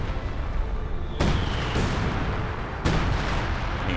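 A rapid artillery barrage in the video game Company of Heroes 2, with two heavy booming impacts a couple of seconds apart over a constant rumbling battlefield roar.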